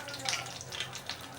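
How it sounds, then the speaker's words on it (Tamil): Spitting, crackling sizzle of mustard seeds popping in hot oil, fairly close and continuous for a brief moment. "அந்த கூட்டுக்கு தாளிக்க போகிறேன்."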